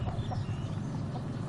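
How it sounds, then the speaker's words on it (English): Low clucking and soft crowing-like calls from cockerels close by, irregular and mixed with light rustling, no talking. "These 2, thick as thieves, those 2 cockerels, Fred and Ginger."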